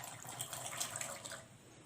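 Diced potato pieces drop into a pot of hot water, giving a continuous soft splashing and watery hiss that stays steady and moderately quiet throughout, with no talk.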